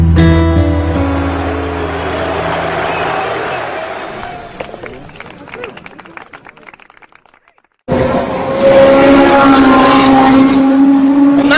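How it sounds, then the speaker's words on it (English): A 1970s Formula One car driven on a Grand Prix circuit, with a loud engine roar that fades out, a short silence, then a strong buzzing engine note again, with crowd noise and someone talking over it. "The sort of driving that James Hunt hopes will bring him his second Grand Prix victory of the season"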